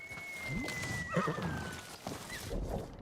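A horse whinnies in the video game Ghost of Tsushima, a rising, wavering neigh near the middle of the clip, with faint hoof clops and game ambience around it.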